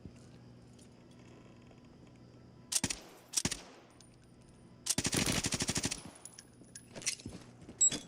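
Suppressed gunfire from a VT7-silenced gun in the video game Warzone 3: a few sharp single shots followed by a rapid burst of muffled automatic fire, then scattered shots over a low steady hum.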